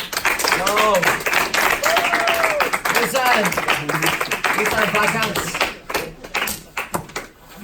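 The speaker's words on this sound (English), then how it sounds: "let's give them a round of applause" Students in a grammar class clap briefly for classmates about to present, a round of scattered claps mixed with voices talking over it.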